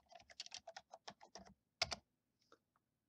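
Fast, uneven keystrokes on a computer keyboard as a password is typed, about a dozen close, crisp clicks followed by a firmer key press and a couple of sparse final taps, alone in a quiet room.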